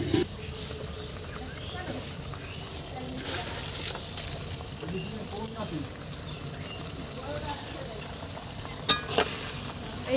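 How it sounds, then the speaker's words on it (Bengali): Mustard greens are added to a simmering curry pot and stirred, giving soft sizzling and scattered clinks and scrapes of a utensil under low background noise, with a voice talking at times. "এখন আমরা শাকগুলো দিয়ে দেব।"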